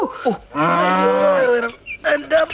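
A cow in heat bellows in one long, loud, close moo, then gives a few shorter broken calls.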